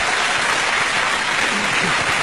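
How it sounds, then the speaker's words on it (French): Steady crowd applause from a television studio audience fills the whole stretch, dense and close, with faint voices mixed in beneath the clapping. "votre ami qui applaudit à chaque fois que vous dites deux mots"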